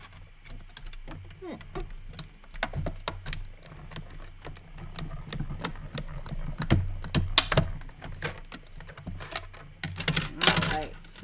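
Die cutting machine pressing through paper apple shapes, a series of sharp clicks and mechanical knocks over a low hum, irregularly spaced and growing louder toward the end.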